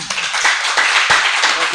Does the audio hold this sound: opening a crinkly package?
no